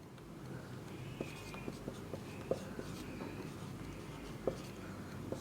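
Marker or chalk scratching across a board in short intermittent strokes with small taps, fairly quiet over steady room noise during a circulatory system lesson.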